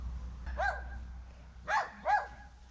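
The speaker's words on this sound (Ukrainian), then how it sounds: "Ось там цюцик гавкає собачка." A dog barks three times in the distance in a rural yard by a river during 35-degree heat: one short bark, a pause, then two quick barks close together.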